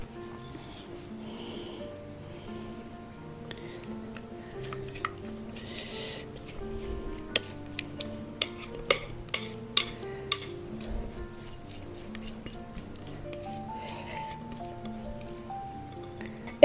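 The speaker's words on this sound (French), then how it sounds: "maintenant, on n'a plus qu'à verser notre pâte sur nos oranges" Cake batter poured over orange slices in a pan, soft squishy gloops with scattered clinks of utensils against the dish, quiet and close, under background music.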